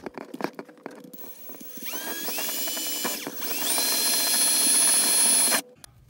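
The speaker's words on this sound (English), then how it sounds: "Let's go ahead and drill a pilot hole." A power drill bores a pilot hole through the roof of a Jayco 212QBW travel trailer, starting with scattered clicks and handling, then spinning up into a steady loud whine with rising pitch before stopping abruptly.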